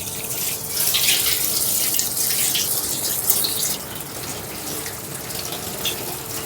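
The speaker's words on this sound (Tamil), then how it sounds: "இப்ப இஞ்சியையும் பூண்டையும் தண்ணியில நல்லா அலசி கழுவி எடுத்துக்கிறோம் மக்களே" Tap water runs steadily as ginger and garlic are rinsed under it, a continuous close splashing gush with slight swells as the pieces are moved through the stream, no voices.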